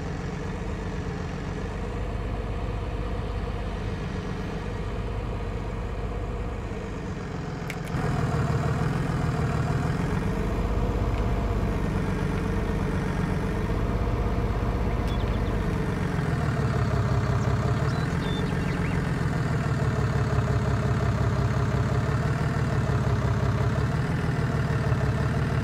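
Truck engine hitched to a hay bale trailer, a steady low rumble that grows louder partway through and then holds with a slowly wavering pitch, close and continuous with no talk.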